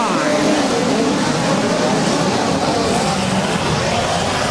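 Midget race cars roar steadily around the dirt track at Indianapolis Motor Speedway, a dense continuous engine drone from the pack at the green flag, loud and unbroken throughout.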